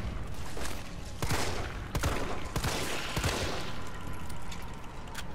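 Gunfire in Resident Evil 3: several sharp shots spaced apart over a low ambient rumble, fairly quiet overall, with no voices.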